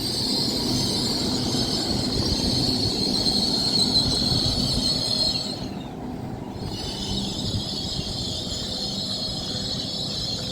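Hull Trains class 802 unit passing through Grantham station, a loud continuous rumble of wheels with a steady high squeal running along the platform, dipping briefly midway before carrying on at the same level.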